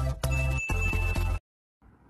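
A short, bright notification jingle with a bell-like ding plays loudly for just over a second, then cuts to silence before faint background sound returns.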